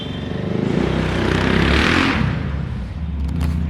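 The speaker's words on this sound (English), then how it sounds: "That motorcycle was loud as fuck." A loud motorcycle roars past on a street, its engine note swelling to a peak and then receding as it moves away, heard alone at fairly close range.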